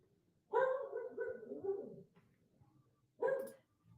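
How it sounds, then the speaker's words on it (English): A pet dog barks and yelps indoors in a short run of calls, then goes quiet before one more bark, fairly close and clear with no talking over it. "I'm sorry if you can hear my dog in the background"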